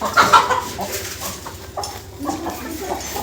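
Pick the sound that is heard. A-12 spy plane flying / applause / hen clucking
hen clucking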